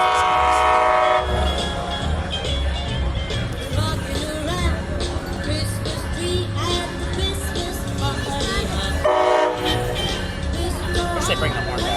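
A Florida East Coast Railway train sounds its horn during a Santa train stop in West Palm Beach, loud sustained blasts over the rumble of the passing train, with people talking nearby.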